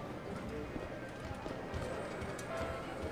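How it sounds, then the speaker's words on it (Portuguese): Hooves gallop in a horse race in GTA 5 Online, a fast, continuous drumming of clip-clops under a steady noisy bed, fairly loud and unbroken. "corrida de cavalo"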